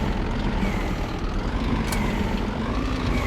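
Truck engine in the driving game On The Road, a continuous heavy droning rumble that stays loud and fairly steady, with faint shifts as the throttle is eased on and off.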